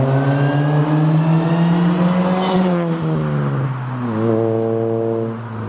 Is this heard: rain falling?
no